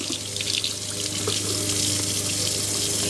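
Tap water runs steadily into a sink to wet a makeup brush before it is shampooed, a constant close rushing flow with no voices.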